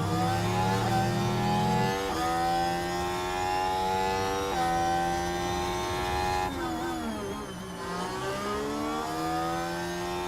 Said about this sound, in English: I do like the way this car sounds, actually.